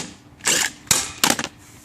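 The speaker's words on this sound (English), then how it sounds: "I've already got the socket attached to my DeWalt impact wrench" A DeWalt impact wrench loosening the blade bolt on a Greenworks 21-inch electric lawn mower, three short close rattling bursts separated by pauses.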